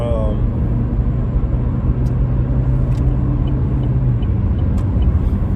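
UPS delivery truck rolling past outdoors, a heavy continuous low rumble with a deeper engine drone that eases off toward the end, loud and near, while a person talks over it.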